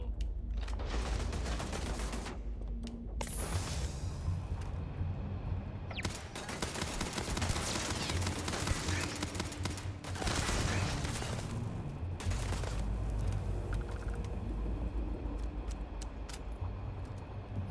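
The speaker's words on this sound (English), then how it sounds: "Oh, it's a turret." Automated turret in the space game Starfield fires in a long, sustained stream of rapid shots, loud and dense throughout with brief gaps, mixed with busy game effects and no talking.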